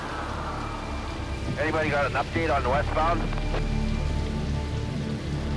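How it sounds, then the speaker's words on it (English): Heavy winter rain pours down on Highway 1 in BC's Fraser Valley at 4:30 a.m., a dense, loud, steady hiss throughout, with a voice speaking briefly over it. "Heavy winter rain is wreaking havoc on Highway 1."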